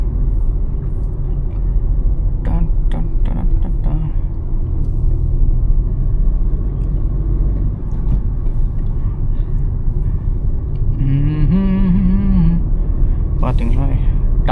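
Steady low rumble of a running Hyundai i20 car engine heard from inside during a drive, with a person talking over it and a brief tonal sound near the end.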